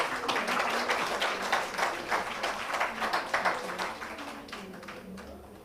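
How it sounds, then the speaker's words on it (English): Audience applause fills a conference hall at a sustainability education plenary session, a steady dense clapping that swells and then gradually tapers off, with no talk over it. "So let's welcome them with your round of applause, please."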